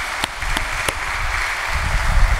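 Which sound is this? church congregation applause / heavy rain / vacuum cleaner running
church congregation applause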